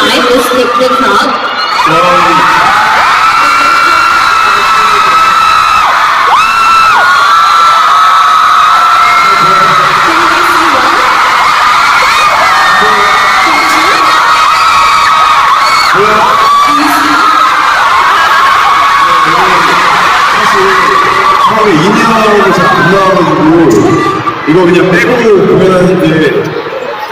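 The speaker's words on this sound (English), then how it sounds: "The crowd is actually very high, this big crowd." A big, dense crowd at a live event in Manila cheering, screaming and whooping nonstop at loud volume, with voices shouting throughout.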